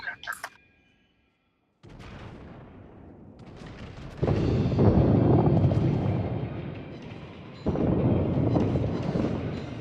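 Battleship main guns in World of Warships fire in a heavy rumbling salvo after a short silence, followed by sustained deep booming barrages that swell and roll on, loud and distant-sounding, with no voices.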